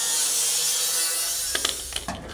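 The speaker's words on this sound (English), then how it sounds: "Now using a grinder with a cutoff wheel, I'm going to slice through just the first layer" A grinder with a cutoff wheel whines steadily at a high pitch as it slices through the first layer of a car body panel, with a few sharp clicks and knocks toward the end.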